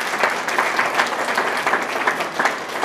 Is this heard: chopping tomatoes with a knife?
no